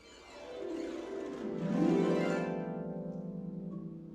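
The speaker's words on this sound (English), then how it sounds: "the next one is the falling hail effect, and that is also a flux, but it's played with your fingernails." Falling hail effect: a flux sheet struck with the fingernails, giving a rattling metallic wash that swells, glides downward in pitch and then settles into a sustained ringing tone, close and alone.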